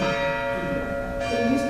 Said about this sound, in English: I do love the sound of the bells, and I love historic bells.